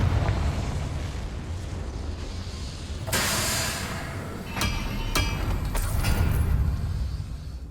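A Confringo fire spell explodes in Hogwarts Legacy, a loud sudden blast that gives way to a sustained rumbling roar, followed by several sharp crackling bursts and pops over a dense, heavy background.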